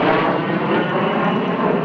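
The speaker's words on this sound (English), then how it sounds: "With 3 L-39 Albatrosses in the lead, the 2 Vampires on the edges and the BAC Strikemaster bringing up the rear" A formation of six civilian jets roars past at a New Zealand airshow: three L-39 Albatros trainers in the lead, two de Havilland Vampires on the flanks and a BAC Strikemaster at the rear. The engine noise is loud, broad and steady throughout.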